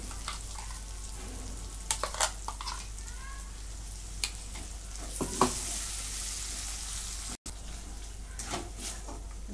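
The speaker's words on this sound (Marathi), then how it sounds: "हे चांगलं भाजून घेऊया." Masala paste fries in a pan for paneer korma, a soft, low sizzle with occasional stirring scrapes and clinks, fairly quiet and without speech.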